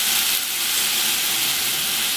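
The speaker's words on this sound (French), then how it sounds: "on va déglacer au citron" Lemon juice hits a hot pan to deglaze the stuck-on cooking juices, giving a steady, close, loud hissing sizzle with no breaks and no talking.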